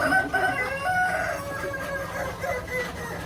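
KUB improved kampung chickens at a poultry research station, several birds clucking and a rooster crowing in a busy, overlapping chorus, fairly close with no talk.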